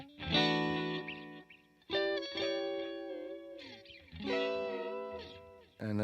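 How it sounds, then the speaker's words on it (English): An electric guitar played through an analog delay pedal on a 2023 pedalboard: three bursts of ringing chords and notes, each trailing off in soft, blurred repeats, close and fairly loud with no voice. "Here's an analog delay."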